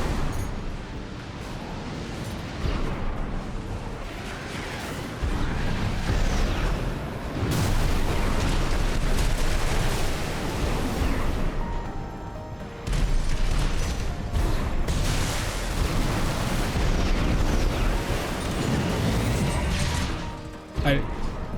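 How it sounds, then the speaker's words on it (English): Siege missile explosions in the mech combat game Armored Core VI, loud continuous booming blasts and crashing impacts with brief dips, dense and sustained throughout. "Man, those siege missiles are a pain."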